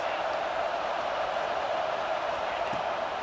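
A packed college football stadium crowd at a Virginia Tech versus Utah game roars as a steady, loud, continuous wall of noise, with a broadcast commentator talking over it.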